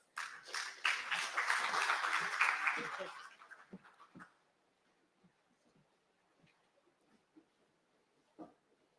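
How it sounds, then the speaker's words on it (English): Applause at a port facility operator agreement signing ceremony: a brief round of clapping from a modest audience for about four seconds, then fading into near silence with a few faint shuffles. "A round of applause, colleagues."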